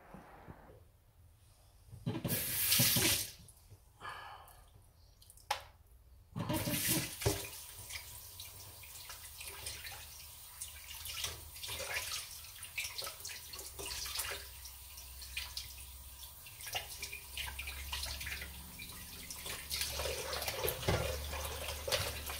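Tap water runs steadily into a sink while raw bacon is rinsed before being spiced, a continuous close wash with a few louder splashes and clatters near the start.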